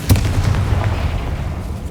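A Confringo fire spell explodes in Hogwarts Legacy, a short, dull booming burst that swells loud at the start and then rumbles low and steady for a couple of seconds.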